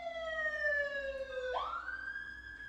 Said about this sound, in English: Sorry guys, that's a siren.